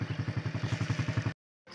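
A shopkeeper's motorbike engine chugs nearby in an even, rapid pulsing rhythm, steady and fairly loud, then cuts off abruptly into silence before a brief burst of noise returns.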